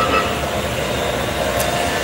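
Train departing Union Station, a steady loud rumble of rail cars pulling away that fills the whole stretch with no letup, close by and heard alone with no voices.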